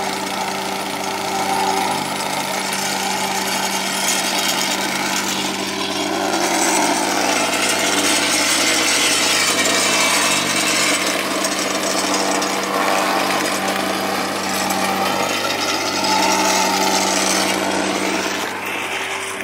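Wacker Neuson plate compactor running on gravel for a paver patio base: a loud, steady engine drone with continuous rattling vibration, unbroken and close throughout.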